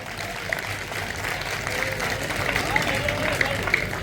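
A poetry-recital audience claps steadily for a few seconds while voices carry on over the applause.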